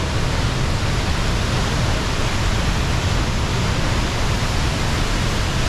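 Loud, constant roar of the Mamihara waterfall pouring into a rocky basin surrounded by cliff walls: a dense, unbroken rush of water that stays close and even throughout, with no voices.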